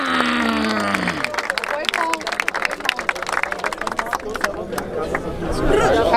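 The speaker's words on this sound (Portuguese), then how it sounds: "Palmas pra essa batalha!" Crowd at a freestyle rap battle in Barueri, São Paulo, bursting into clapping and cheering after a host's shout, dense claps and chatter building and swelling toward the end.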